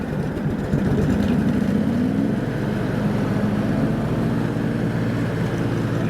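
A lawn tractor idling with its mower deck power take-off engaged, a steady low engine drone and whine settling after a brief rise, continuous and close with no voices.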